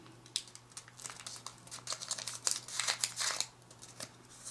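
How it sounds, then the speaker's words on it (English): Paper folded for an origami jumping Qbert makes close crinkling, rustling and crisp creasing sounds in irregular bursts, busiest toward the middle, with no talking. "fold this flap to the edge"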